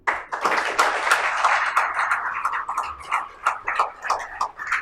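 Audience at a college graduation ceremony in Pune applauds a graduate, a dense burst of clapping that swells and then thins into scattered claps over several seconds, fairly close and without talk.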